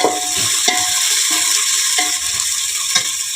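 Onions fried with salt in a pan give a steady sizzle up close, and a utensil stirs and scrapes the pan with several short clinks about once a second.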